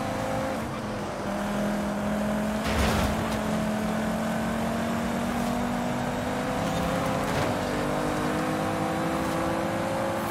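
A car in a Forza Horizon 5 race holds a loud, sustained engine drone, and its pitch slowly rises and falls as it accelerates. A brief whoosh about a third of the way in sounds like another car passing.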